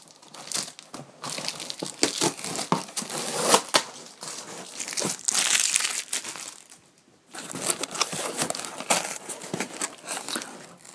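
Packaging of a Legend of Zelda Master Sword LARP weapon being unboxed: loud, continuous crinkling, crushing and tearing of plastic and cardboard, with bursts and a brief pause near the middle, no talking.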